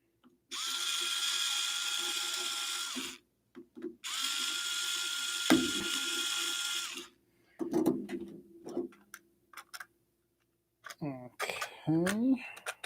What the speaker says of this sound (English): I'm going to tighten those other screws in more